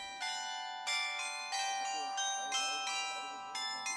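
The glockenspiel on the Goslar marketplace in the Harz chimes at noon, tuned bells struck in a steady repeating sequence, each tone ringing out clearly and overlapping the next, moderately distant with no talk.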